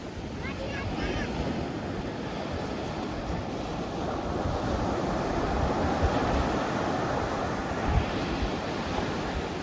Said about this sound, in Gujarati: આવી રીતના કંઈક મોજા છે